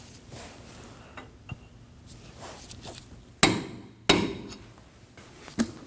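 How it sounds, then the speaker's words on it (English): A hammer peening the axle nut on a 2003-2006 Subaru Baja 2.5L H4 front CV axle, with two sharp metallic strikes close together and a lighter tap afterward over a quiet workshop background. "We're going to peen the axle nut so that it won't spin backwards."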